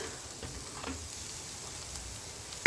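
Garlic and coconut frying in a pan for a chicken curry with coconut, a faint, steady sizzle with soft crackles throughout, quiet and close, ending with a brief louder bump.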